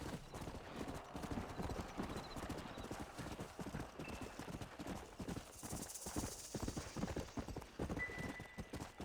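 Horse hooves clip-clop at a gallop in the video game Red Dead Redemption, a steady rapid drumming that runs the whole way through, with a brief whinny and faint game effects over it.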